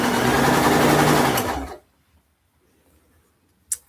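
A sewing machine stitching a cosplay piece runs in a loud, steady, close whir for nearly two seconds, then stops abruptly, leaving near silence broken by one brief click.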